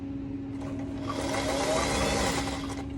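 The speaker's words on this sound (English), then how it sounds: "I'm just stitching it along this edge" Sewing machine running a straight stitch along the edge of an apron pocket, a steady mechanical whir with a constant hum, starting softly and holding even for a few seconds.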